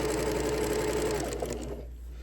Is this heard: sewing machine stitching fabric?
yes